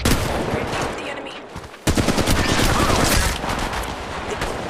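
Loud, dense automatic gunfire in the Apex Legends video game, with rapid shots overlapping continuously and a short lull before the firing resumes heavily.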